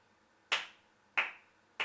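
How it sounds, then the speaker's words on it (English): Single sharp hand claps at a live looping class, three isolated bright hits spaced evenly about two-thirds of a second apart, each with a short room decay and nothing else sounding. "Do you want to just randomly clap your hands to some rhythm, and whatever rhythm, as fast or slow as you want?"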